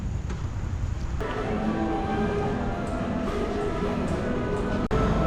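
Train rumble and rail noise at Yogyakarta railway station, a steady loud broadband roar with a faint tonal hum running throughout, close and continuous with no voices.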